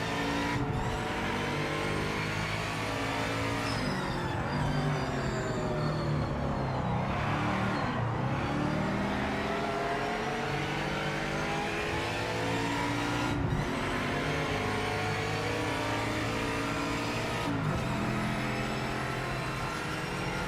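A race car engine in the video game Project Motor Racing roars and revs continuously, pitch rising and falling through gear changes, with occasional sharp high whines, loud and close.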